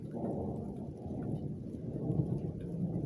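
A thunderstorm in Edmonton, Alberta, with a low, continuous rumble of thunder rolling on throughout and a faint hiss of rain above it, and no talking.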